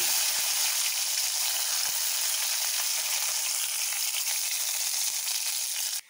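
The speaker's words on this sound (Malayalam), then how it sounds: "അപ്പോൾ ചുവന്ന മുളകും വേപ്പിൻ്റെ ഇട്ടെടുക്കാം." Red chillies and curry leaves sizzling in hot coconut oil after mustard seeds, a steady, bright hiss of frying that carries evenly for several seconds before stopping abruptly, with no voices.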